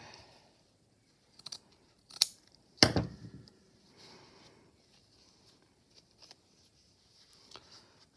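Scissors snip through fabric while snippet strips are made, giving a few sharp close cuts and clicks between long quiet gaps.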